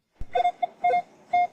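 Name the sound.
metal detector beeping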